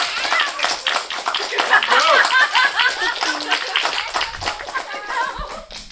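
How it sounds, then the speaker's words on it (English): A small audience claps for a second-place finisher at a balloon warfare robotics finals, a brief burst of close, scattered hand claps fading out after a few seconds. "Can we give a round of applause to Sephora Gardner?"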